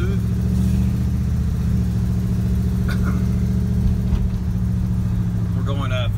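A 1962 Ford Galaxie cruising at about 40 mph, a steady low engine and road drone heard from inside the car, with someone talking briefly over it.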